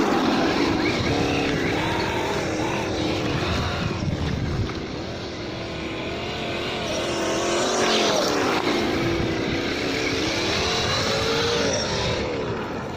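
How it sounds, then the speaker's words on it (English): A Losi Baja Rey RC car on a 2S battery drives back and forth over a bump, its electric motor whining steadily with rising and falling pitch and rough rattling from the suspension and tires, close by throughout. "Gonna make the car pass over this bump a little bit more."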